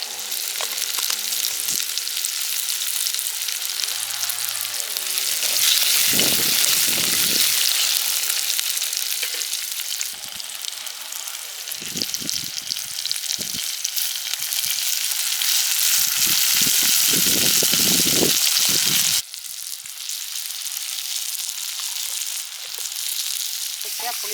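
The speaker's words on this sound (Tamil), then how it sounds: "கொஞ்சம் வெந்தயம் போடுவேன்" Fenugreek seeds sizzle and fry in a hot pan at an outdoor farm-home kitchen, a loud steady crackle with bursts of stirring and spatter throughout, briefly dropping near the end.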